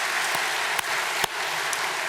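A church congregation gives applause of thanks during a sermon, a full, even roar of many hands clapping together, with a few sharper individual claps popping out.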